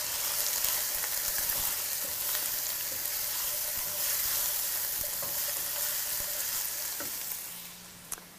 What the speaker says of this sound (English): let's get the celery in there with the onions. And let me give that just a quick little stir